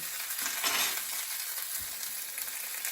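A hake fillet pan-fries skin-side in butter, giving a steady, close, moderately quiet sizzle and crackle throughout, with a few faint utensil scrapes and no talking.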